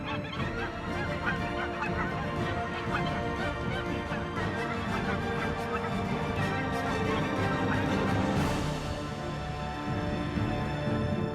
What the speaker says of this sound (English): The geese begin their escape to the south.